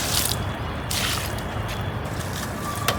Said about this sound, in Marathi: तर इथे नळच आहे पाणी. थोडं थोडं टाकते, जास्त नाही.